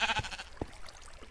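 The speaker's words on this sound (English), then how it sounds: "we got a little sheep friend" A sheep in the Minecraft video game gives a short, close bleat, followed by a couple of soft thumps.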